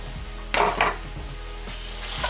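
Sliced onions frying with browned pork neck pieces in a pan, a steady sizzle with a couple of louder bursts as they are stirred, plus light scrapes against the pan.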